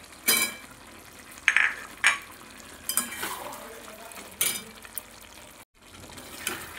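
Potatoes go into a pan with mutton and get stirred, giving a low sizzle under several sharp scraping and clinking hits of a spoon against the pan, spaced irregularly, with a brief dropout near the end.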